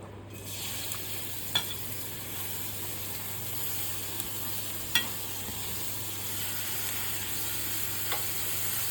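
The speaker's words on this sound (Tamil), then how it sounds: "இந்த வெங்காயத்தெல்லாம் கொஞ்சம் வதக்கிக்கலாம் போட்டு." Onions, green chili, coriander and carrot sauté on a hot dosa pan, making a steady, even hiss of frying nearby, with a few sharp taps of a spatula against the griddle.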